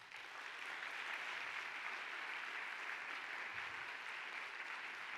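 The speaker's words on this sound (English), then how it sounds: "Let's give our God a big round of applause." Steady round of applause from a university festival crowd, dense even clapping sustained for about five seconds at moderate, slightly distant loudness.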